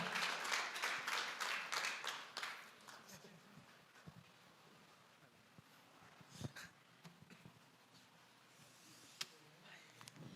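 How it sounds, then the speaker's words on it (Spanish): An audience applauds to welcome a speaker at a talk, starting with a burst of clapping that thins to scattered claps and faint murmuring. "¿por qué no recibimos con un fuerte aplauso a Mauricio Flores"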